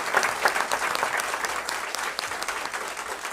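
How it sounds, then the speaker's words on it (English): Steady applause from a crowd at a school board meeting, clapping continuously at an even level for a few seconds. "So if we can give them a round of applause,"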